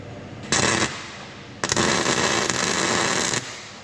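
Arc welding on a rusty fuel tank of a John Deere military dozer, two bursts of loud crackling, sputtering arc noise, a short one then a longer run of about two seconds, close by with no talk.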